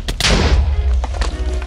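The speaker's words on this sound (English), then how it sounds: "I'm wasting all of your fireballs!" A fireball shot in a video game lands as a heavy booming thud followed by rumbling crackle and a few fainter thumps, close and loud.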